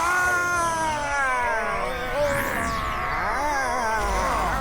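A cat meowing in a long, wavering, drawn-out wail over a busy background in a children's animated series, loud and continuous with no clear talk.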